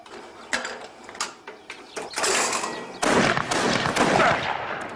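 A harquebus, an early crude firearm, firing in a few sharp reports followed by denser crackling bursts, near and fairly loud, with no talk.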